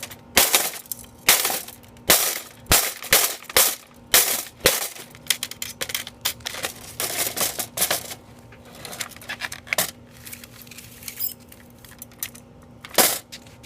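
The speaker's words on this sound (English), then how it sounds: "let's destroy the back side of the screen" The back of an X2gen computer monitor is smashed, a close series of sharp cracking hits and crunching breaks, dense at first, then sparser snaps and a final loud strike.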